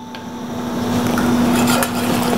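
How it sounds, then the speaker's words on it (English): Cold butter being whisked into a hot pan with a nonstick Teflon whisk, a steady scraping and light sizzle building in loudness, close and without talk. "with my Teflon whisk, my nonstick whisk, I'm gonna whisk it in"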